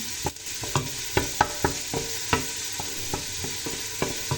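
Meat sauce for gluten-free lasagna made with two meats cooks in a pan, a steady close sizzle broken by repeated scraping stirs and light clacks of a utensil, with no talking.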